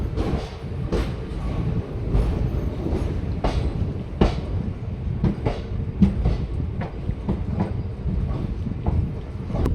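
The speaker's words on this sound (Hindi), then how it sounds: "ट्रेन जो है ना फ्रेंड्स अपनी पहुंचने वाली है अभी कटरा रेलवे स्टेशन" A sleeper train running from Kalka rolls into Katra railway station with a continuous loud rumble and repeated clickety-clack from the wheels, heard from inside the train with no talk.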